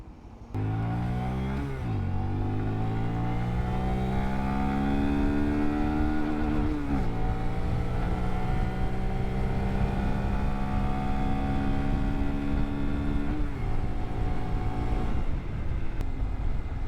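A Honda Grom motorcycle's small engine revs and climbs through gears, pitch rising then dropping at each shift, held near full throttle for long stretches, loud and close as if recorded from the rider's seat.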